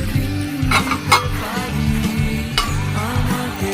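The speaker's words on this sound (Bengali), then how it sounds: "ভেজে রাখা আলু, ভেজে রাখা এঁচড় আর তেজপাতা আবারও মা কষিয়ে নিচ্ছে।" Fried potato, raw jackfruit and bay leaf are sautéed in a pan, with a few scraping stirs and a soft sizzle over a steady, low droning background.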